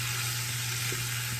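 Sausage browning in butter in a pot for gumbo, a steady, soft broadband sizzle running unbroken over a low electrical hum with no voices.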